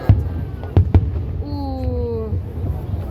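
Fireworks go off in several sharp booms at a distance, a quick cluster of bangs followed by a lone pop, with a voice and a falling tonal sound in between.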